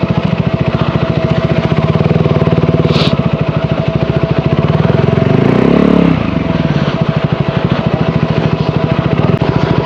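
A motorcycle engine runs close by as the bike is parked on a trip near Kudremukh. It gives a steady, loud chugging idle that swells into a brief rev partway through, then settles back. No one speaks.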